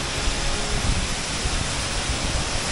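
A waterfall in Barot Valley, swollen with snowmelt, gives a steady, dense rushing roar that stays loud and unbroken throughout, with no voices.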